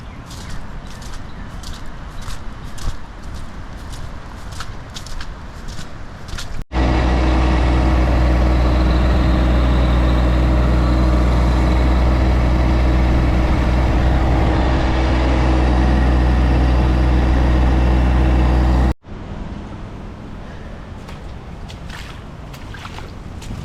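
A tractor engine runs with a heavy, steady low rumble and loud drone for about twelve seconds in the middle, set between stretches of rain and wind noise during a tropical storm.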